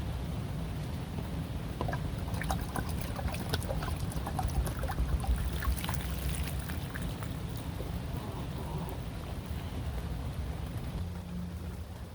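Steady rain patters continuously on surfaces, a soft even hiss with scattered drips, no voices.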